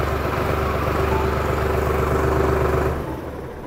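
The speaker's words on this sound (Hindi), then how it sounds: "तो आप इसे अगर लो में करेंगे तो ये ट्रैक्टर आगे जा रहा है" Solis 4215 E 43 HP tractor engine idling and running steadily up close while shifting into reverse, a continuous low diesel drone with a faint whine that drops off slightly near the end.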